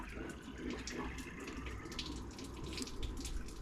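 Water flowing steadily out of a caravan water tank outlet, a continuous close splashing gush with no pause.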